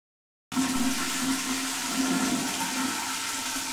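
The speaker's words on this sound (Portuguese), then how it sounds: "Quem sabe se eu der uma terceira descarga?" Toilet flush, a loud close rush of water that starts suddenly after a moment of silence and keeps going steadily to the end.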